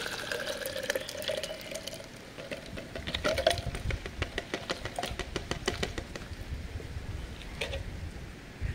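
Homemade liquid fertilizer pours into a bottle, a close trickling and gurgling that turns into rapid glugging bubbles as it fills, with no voices.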